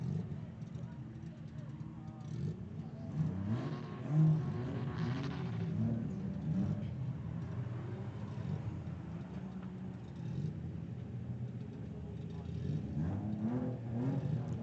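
A drift car idling in line at an Ultimate Drifting Challenge event at Affinity Circuit, a rough, lumpy low engine rumble that holds steady throughout, partly under commentators talking.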